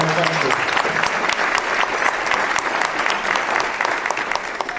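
An audience at a Veterans Day ceremony in Belleville, Illinois applauds steadily for about five seconds, the loud, dense clapping filling the space with no break.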